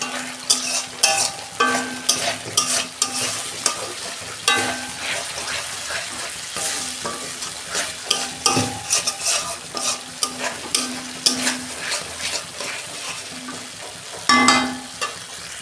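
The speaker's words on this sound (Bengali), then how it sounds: "আর ভালো করে 2 মিনিট আমি কষাবো" Spice masala for an egg curry is sautéed in a pan, with a constant close sizzle and rapid, repeated scraping strokes from the spoon throughout.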